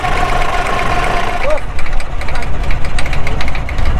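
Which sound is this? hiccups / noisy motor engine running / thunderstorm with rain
noisy motor engine running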